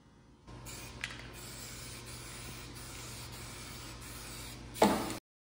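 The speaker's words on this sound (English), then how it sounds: "following that is a couple coats of just a generic black spray paint" A steady hissing of black aerosol spray paint runs for several seconds, close by, ending with a brief louder burst before stopping.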